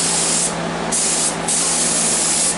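PVA mould release sprays onto a DIY gel coat mould in a loud, steady, close hiss that dips briefly twice before continuing.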